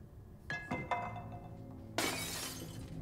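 In Little Nightmares 2, a few small clinks and knocks are followed by a loud burst of glass shattering that rings on briefly as the shards settle.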